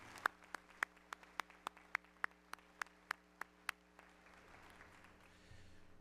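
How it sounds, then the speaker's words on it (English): A single pair of hands clapping at a spring university commencement ceremony, about a dozen sharp, evenly spaced claps close by that stop partway through, leaving a quiet room hum. "Please join me in another round of applause for Commissioner Worden's remarks this morning."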